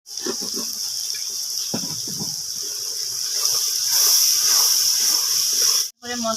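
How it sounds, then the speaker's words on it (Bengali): Ground spices, chili powder and turmeric, cooking in oil in a pan for a cabbage dish make a steady, bright hiss that swells louder in the second half before stopping abruptly, with faint low knocks at the start. "এরপরে মশলাটাকে আমি মোটামুটি 2-3 মিনিট ভালো করে কষে নিয়েছি।"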